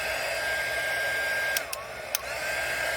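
A heat gun blows a steady, loud rush of hot air over a resin pour on a platter, holding constant throughout with a few brief clicks near the middle.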